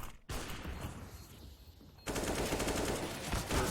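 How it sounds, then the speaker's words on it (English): Automatic rifle spray from Counter-Strike: GO during an ESEA Advanced match, rapid sustained gunfire bursts that intensify sharply midway and run loud and continuous to the end, with no talk. "Good spray out through there from Mighty Max."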